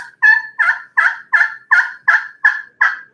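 Turkey yelps worked on a slate call with a striker, nine evenly spaced, fairly loud raspy notes in a steady rhythm, close and alone with no talking.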